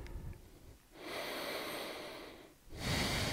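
Deep, full yoga breaths held in eagle pose: a long, airy inhale swells and sustains for nearly two seconds, then a brief pause before the next breath begins, close and steady with no talking.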